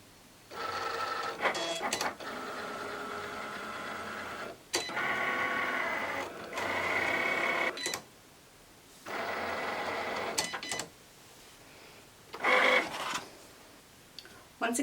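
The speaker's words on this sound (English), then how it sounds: "Then we'll just load our mat and cut our design." A Cricut Explore cutting machine cutting a design into bonded fabric loaded on a mat. Its carriage gives a series of mechanical whirring runs of varying pitch, separated by brief pauses and clicks.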